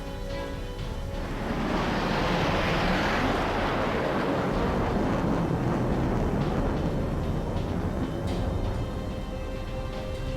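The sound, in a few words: plane flying in, radio drama sound effect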